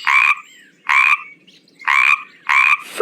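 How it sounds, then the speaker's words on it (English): A frog croaks four times in a slow, regular rhythm, each call a loud, close, rasping burst separated by short silences. "Frog."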